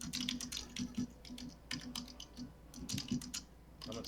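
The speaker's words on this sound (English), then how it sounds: "Someone's typing madly." Fast, continuous typing on a computer keyboard at a tabletop roleplaying game session, a dense stream of quiet clicking keystrokes with slight pauses, close by and alone with no talk.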